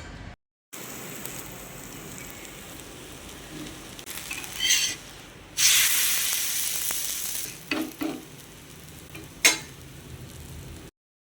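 Banana sweet snack batter frying in hot oil, a steady close sizzle with brief louder crackling bursts and stirring ticks; no talking.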